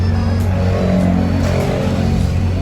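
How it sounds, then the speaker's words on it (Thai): A Honda Accord G8 runs after a push-button start, a steady, fairly loud engine hum with a low even rumble throughout and no speech. "ถ้าต้องการสตาร์ทนะครับ เหยียบเบรกค้างไว้ กดที่ปุ่มหนึ่งครั้งนะครับ"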